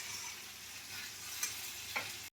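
Water poured into a frying pan of cooking potatoes, cauliflower and duck eggs gives a faint, steady sizzling hiss nearby, broken by a couple of brief utensil clicks.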